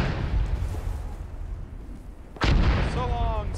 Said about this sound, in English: Mortars. That's why we're running.